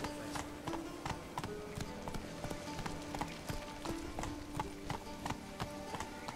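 Hoofbeats of Roach, Geralt's horse in The Witcher 3, galloping in a quick regular clip-clop rhythm of sharp repeated thuds, steady throughout and without voices.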